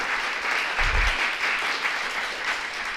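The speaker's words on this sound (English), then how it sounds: "let's give him a round of applause" Clapping spreads through the room at a public board of education meeting, a steady moderate round of applause honouring students, continuing throughout with a brief low thump partway in.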